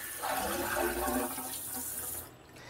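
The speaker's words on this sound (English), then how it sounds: "And then we flush." An RV toilet flushes with water after a chemical has been added, giving a close, rushing gush that runs for about two seconds and then cuts off sharply into quiet.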